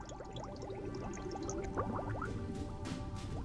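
Cartoon underwater bubbles in a beach-themed children's show, a rapid stream of close, bright bloopy pops and gurgles rising over a steady watery background.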